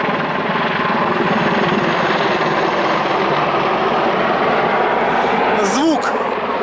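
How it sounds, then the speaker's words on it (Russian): A huge helicopter flying low overhead, a loud continuous rotor thrum and turbine roar filling the scene, with someone talking over it near the end. "Звук очень чудовищный, громкий."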